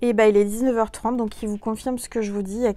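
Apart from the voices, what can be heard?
No everyday noise stands out behind the speech.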